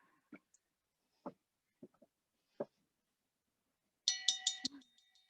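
A ship's bell on the Nonsuch ship replica rings in a quick cluster of about five bright strikes with a lingering metallic ring, close and loud near the end, after several scattered soft knocks and clicks in a quiet space.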